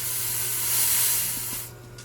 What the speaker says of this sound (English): you can hear there's a lot of air pressure. It's already coming out very hot